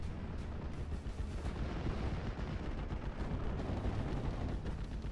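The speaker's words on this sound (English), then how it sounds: "we do got a very good barrage here" Continuous heavy artillery barrage from field guns in a strategy war game, a dense rumbling wall of overlapping booms and blasts with no pauses, loud and sustained throughout.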